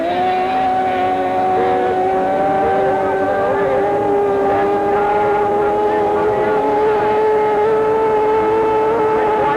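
Outboard racing boats, including a small runabout with a Yamato 102 outboard, speed on Lodi Lake, a loud steady high engine whine with shifting pitches, heard under a race commentator's voice.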